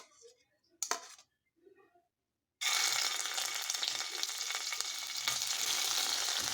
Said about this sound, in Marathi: आपलं तेल ग गरम झालेलं आहे त्याच्यामध्ये हे पनीर घालूया फ्राय करण्यासाठी